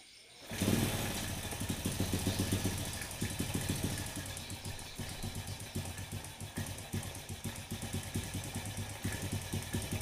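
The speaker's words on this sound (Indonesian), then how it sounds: "Pokoknya jangan sampai mati ya mesin." A motorcycle engine idles at close range while its carburetor is being adjusted, a steady rapid chugging pulse that swells briefly early on and then settles into an even, slightly uneven idle with no talk.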